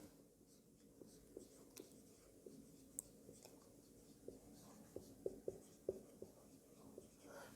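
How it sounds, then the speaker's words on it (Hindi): Chalk or marker writing a maths question on a classroom board, a string of faint scratchy strokes and soft taps, quiet and close, with occasional small clicks. "तो सबसे पहले क्वेश्चन नंबर 8 मैं लिख दूँ आपके सामने।"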